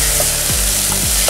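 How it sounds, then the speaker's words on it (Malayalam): Onions and beef sautéing in a pan with salt, a steady close frying hiss, with spoon stirs scraping through it, and no talk. "നല്ലോണം ഒന്ന് വഴറ്റിയെടുക്കാം"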